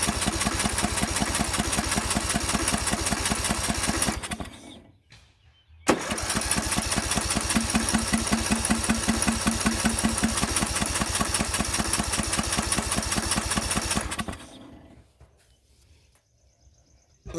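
A restored Craftsman lawn mower engine cranks and sputters while trying to start with an unprimed carburetor, a loud steady chugging run that stops and then repeats. The second attempt is long and ends in quiet.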